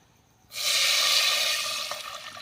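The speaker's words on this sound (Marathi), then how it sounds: "आता यामध्ये आपण पाणी टाकूया" Water hits masala frying in oil in a hot pan with a sudden loud hiss, then settles into a steady sizzle that fades slightly.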